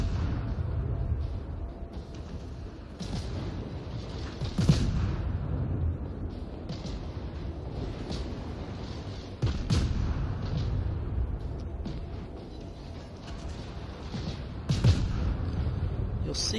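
Ship guns in World of Warships fire armor-piercing shells at a cruiser in repeated heavy booms, spaced every few seconds over a steady low rumble of engine and sea noise, with game sound continuous throughout.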